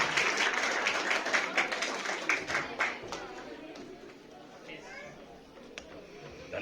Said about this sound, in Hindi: जोरदार ताली के साथ स्वागत करें सर का,